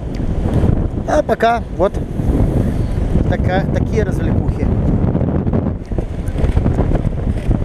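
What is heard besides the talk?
strong wind during a storm at the seafront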